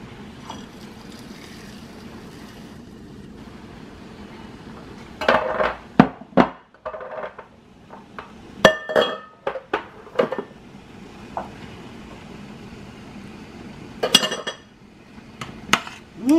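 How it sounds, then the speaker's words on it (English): Peanuts going into a pot of Lao Mee Ka Tee, a creamy coconut noodle sauce, giving several close, sharp clatters and clinks of utensil against pot in short bursts, with quieter stirring between. "I'll go ahead add the peanut in."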